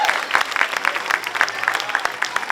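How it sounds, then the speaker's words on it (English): Crowd applause at the Lowell Portugal Day flag raising ceremony, a steady outdoor patter of many hands clapping throughout, with a few voices faintly underneath. "Give him a round of applause."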